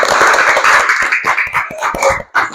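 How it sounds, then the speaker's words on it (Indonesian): Short burst of classroom clapping by pupils in an Islamic religious lesson, scattered hand claps with shouting children's voices over them, fading out near the end. "beri tepuk tangan untuk teman kita"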